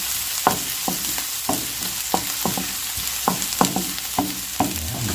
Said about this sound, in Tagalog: Gisa-gisa lang po tayo.